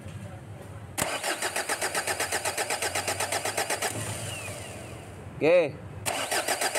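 A 2012 Ford Everest with a stalling, low-power fault has its engine cranked with a steady, rapid chugging rhythm, then fires and catches with a rising whine before settling toward idle. Someone speaks briefly at the start.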